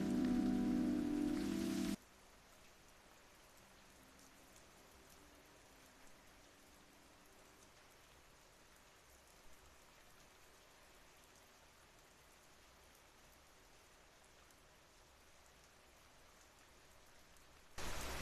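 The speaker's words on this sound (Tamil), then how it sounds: "மழை ஒலி பின்னணியில் மெதுவாக ஓடுகிறது" Rain falls softly in a village as a faint, even hiss that runs on steadily, following a brief louder musical passage at the start.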